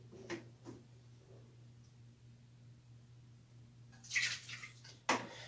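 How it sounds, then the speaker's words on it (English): A cup of milk is poured into a pot on the stove, a short splashing pour followed by a brief clatter over a low steady hum in a quiet kitchen. "we want to add a cup of milk to our pot that's on the stove"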